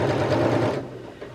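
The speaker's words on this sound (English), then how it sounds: "I decided to go over just sew over the pins with this because it's just so slippery" Sewing machine stitching slippery fabric with pins left in the seam, a short close burst of quick mechanical whirring that stops abruptly partway through.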